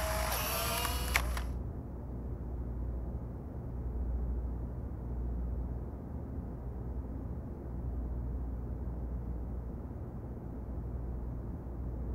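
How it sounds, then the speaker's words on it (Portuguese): A single quick camera shutter click and mechanism whir at the very start, then a long stretch of quiet low ambient hiss outdoors under the sky. "Como de costume, Francisco sai para fazer mais uma fotografia de céu."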